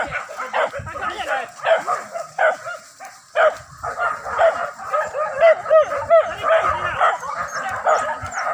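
Several hunting dogs bark and yip excitedly in rapid, overlapping bursts during a wild boar hunt, close and loud, with whining mixed in and voices beneath.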